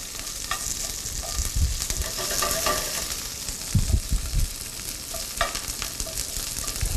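Asparagus sizzles steadily in a hot pan while pan-roasting, a continuous close frying hiss with occasional stirring knocks and scrapes, no voices.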